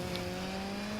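A car engine drones steadily with a sustained tire squeal layered over it, loud and close, sounding like a drift in progress with no voices.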